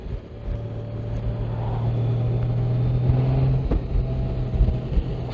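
Honda Gold Wing motorcycle engine pulling under throttle while riding, a steady low drone that rises slightly, then eases off, with wind and road noise around it.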